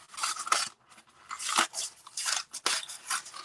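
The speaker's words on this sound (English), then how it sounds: "Why am I using these little scissors again?" Small scissors snip through balloon material in short, crisp bursts, a close run of irregular cutting strokes with brief pauses between them and no talk.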